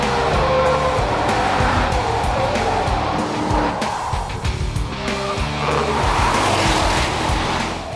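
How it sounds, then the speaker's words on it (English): A car accelerating hard on Dunlop SP QuattroMaxx tires gives a loud, sustained engine roar with a faint tire-squeal edge, held close and constant for the whole stretch with no talk. "With the QuattroMaxx you can really flat out accelerate and the grip is fantastic."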